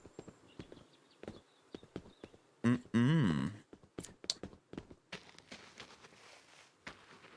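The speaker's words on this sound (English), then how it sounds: "Hello, horsies." Horse hooves clip-clopping on a farm in the video game Adios, a series of sharp, irregular knocks with a brief louder burst of animal noise partway through, fairly quiet overall.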